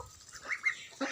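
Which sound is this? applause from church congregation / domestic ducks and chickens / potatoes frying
domestic ducks and chickens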